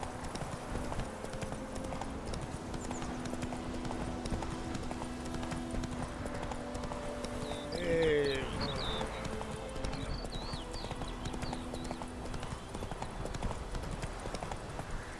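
Horse hooves clip-clop steadily at a walking pace in The Witcher 3, continuous through the scene with a brief whinny-like snort midway and faint ambient game sounds behind.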